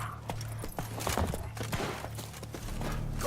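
Roach, the horse in The Witcher 3, gallops with quick rhythmic hoofbeats, close and steady, amid faint game ambience.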